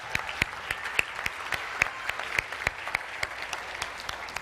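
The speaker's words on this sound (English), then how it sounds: "Let's give Mick a big round of applause." Audience applause at a seminar, a steady burst of clapping from a room of people lasting several seconds, fairly close and loud with sharp individual claps standing out.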